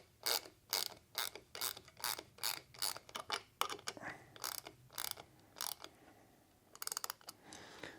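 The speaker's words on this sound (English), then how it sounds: "We'll use a ratchet in wrench here and just go ahead and taper that right in." A ratchet wrench driving a threaded insert into wood, heard as a close series of rhythmic clicking ratchet strokes, about a dozen quick bursts that slow and thin out toward the end.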